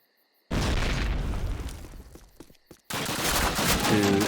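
A grenade blast in the 2003 video game Call of Duty: a sudden loud explosion with rumbling debris, a brief dip, then a second heavy burst of battle noise.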